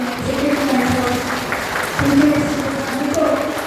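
Applause from attendees standing at a state executive committee meeting of a Karnataka government employees' association, a steady broadband patter with voices mixed in throughout.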